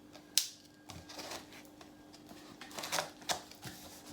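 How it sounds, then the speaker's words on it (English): Packaging of a mystery box being cut open, with scattered crinkling, snipping and rustling sounds close by, one sharp click near the start and quiet pauses between bursts. "Very careful so I cut open the packaging."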